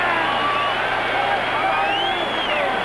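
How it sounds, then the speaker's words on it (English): College football stadium crowd applauding the Michigan defense, a steady broad roar of clapping and cheering from a huge crowd with a few whoops rising above it, continuous throughout. "And now the rousing round of applause goes for the Michigan defense one more time."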